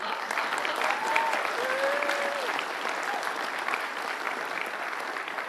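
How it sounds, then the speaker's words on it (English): Steady, full applause from the audience of a San Diego Comic Con legal panel on Spider-Noir, continuous and even throughout, with a couple of faint whistle-like tones rising above the clapping. "Yeah, applause."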